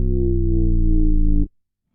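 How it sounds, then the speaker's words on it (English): Sustained bass note run through distortion and overdrive on a bus in FabFilter Saturn, a thick buzzing harmonic-rich tone with a slight wobble that holds steadily and then cuts off abruptly into silence. "I always just put a bus with some distortion or like overdrive."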